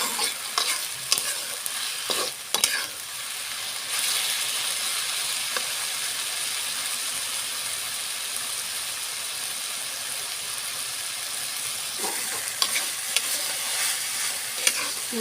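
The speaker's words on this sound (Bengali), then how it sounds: "সুন্দর করে ভাজিটা আমি আস্তে আস্তে সুন্দর করে নাড়াচাড়া করে ভেজে নেব" Bottle gourd peel and potatoes being stirred and fried in a pan, a steady close sizzle running throughout with scraping stirs clustered near the start and again toward the end.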